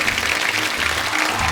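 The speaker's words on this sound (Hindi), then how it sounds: "हमारे सिंह साहिबान के लिए जोरदार तालियां" A studio audience on The Kapil Sharma Show gives loud, sustained applause for visiting Sikh guests, producing a thick, even wash of clapping with no voices over it.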